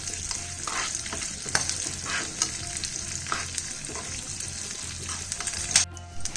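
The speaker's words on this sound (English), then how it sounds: "And we would be adding some urad dal. And we'll just fry it till it's golden in color." Urad dal crackles and sizzles in hot oil for a tadka, frying toward golden, a close, continuous hiss with intermittent stirring scrapes and a sharp clink near the end.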